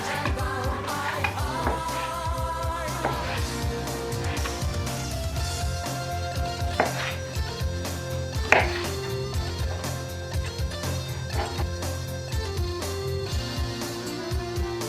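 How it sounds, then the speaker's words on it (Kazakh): Boiled meat being chopped with a knife on a board for Nauryz kozhe, a fast, steady run of sharp knocks continuing alone throughout. "енді осы піскен еттерімізді турап-турап"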